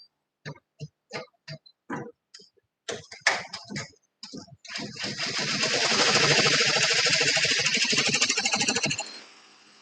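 An embroidery machine stitches a monogram onto a nylon beach bag: a series of short rhythmic stitching bursts, then a steady, loud, fast mechanical whir that runs for several seconds before stopping, heard up close.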